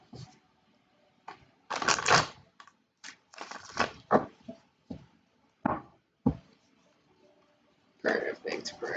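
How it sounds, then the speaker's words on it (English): An Avengers tarot card deck is shuffled by hand close by, in separate crisp riffling and rustling bursts with quiet pauses between them. "One more shuffle."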